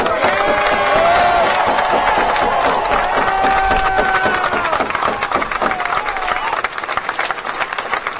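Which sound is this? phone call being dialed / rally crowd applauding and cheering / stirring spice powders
rally crowd applauding and cheering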